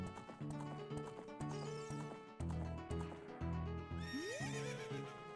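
Horse neighing with clip-clop hooves from the video game The Legend of Zelda: Ocarina of Time, set in a desert thieves' area, a whinny rising over game music with steady galloping beats throughout.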